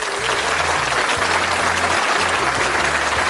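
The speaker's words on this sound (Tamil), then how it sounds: "கைத்தட்டினர்." A standing audience of school officials and attendees applauding, dense continuous clapping that is loud and steady throughout with no voices over it.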